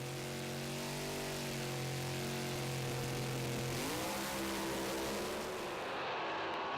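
Drag racing cars idling and revving at the start line, a loud sustained engine drone with a rising pitch shift partway through, steady and close.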